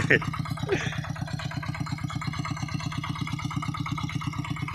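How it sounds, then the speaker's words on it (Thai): A walk-behind plough tractor runs near a sugarcane field, its engine chugging close by in a fast, even, steady thump. "ก็เลยได้เอารถนับ รถไถนะครับ เดินตามนะครับมา"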